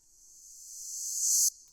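A reversed cymbal sample in Logic swells as a bright airy wash, rising steadily in loudness for about a second and a half before cutting off abruptly.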